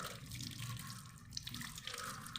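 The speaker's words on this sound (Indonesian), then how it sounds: "lalu bilas menggunakan air mengalir" Tap water running steadily over hands being rinsed at a sink during handwashing, a soft continuous splashing at close range with no talking.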